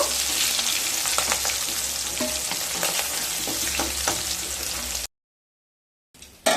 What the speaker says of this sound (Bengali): মাছগুলো একটা সাইড ভাজা হয়ে গেছে এবার উল্টে দেব